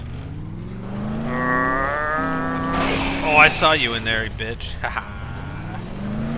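Car engine in the Dead Island co-op zombie game, a steady droning hum that rises in pitch and revs while players talk loudly over it, with a sharp burst and scrappy noises partway through.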